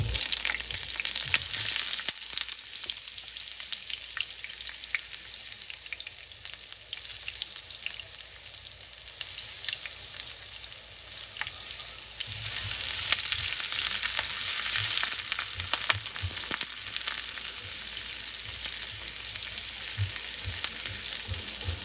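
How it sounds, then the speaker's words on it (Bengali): Chopped onions fry in a pan with a steady, soft sizzle and crackle, with occasional stirring clinks, heard close and without speech throughout. "পেঁয়াজটা হালকা করে ভাজা হয়ে গিয়েছে"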